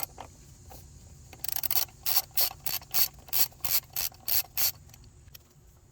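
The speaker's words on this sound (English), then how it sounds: "I'm using a standard ratchet with a 6-inch extension to get these bolts off." A standard ratchet with a 6-inch extension loosens coil pack bolts on a Ford F150 engine, producing a rapid run of about ten sharp, evenly spaced clicks close up, after a short quiet lead-in.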